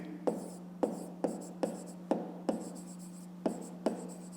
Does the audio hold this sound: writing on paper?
yes